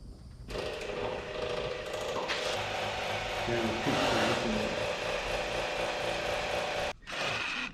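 A ratchet wrench cranks over the engine of a 1946 Chevy rat rod to prime its oil system, clicking in a fast, continuous run close by, with a brief pause near the end before it resumes.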